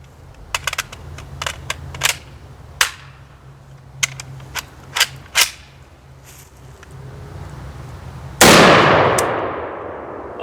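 Cetme LC battle rifle firing, a series of sharp isolated shots spaced irregularly and heard up close, followed by a sudden burst of loud broadband noise near the end.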